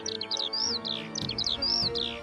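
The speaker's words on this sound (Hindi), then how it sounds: "चिड़ियां थीं" Small birds chirp and tweet in quick repeated bursts through a quiet morning scene, with rising whistled calls close by and a faint low background hum underneath.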